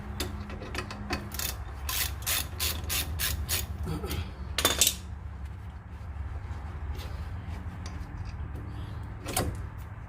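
A 14 mm ratchet wrench turns a wheel bolt, clicking in quick close bursts of rapid ratchet ticks, then a louder scrape and a lone click later over steady background hum, with no talk.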